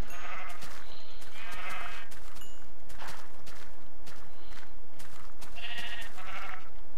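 Sheep in Minecraft bleat repeatedly over steady footsteps and background noise, several nasal calls spaced out across the stretch.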